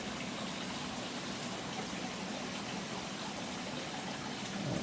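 Creek water flows in a steady, unbroken rush beside a grassy bank, a dense, even wash of sound that holds for the whole stretch with no voices.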